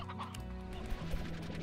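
Chickens in Slime Rancher cluck and chatter in a short, busy burst of fowl sounds over a low game background hum, moderately quiet.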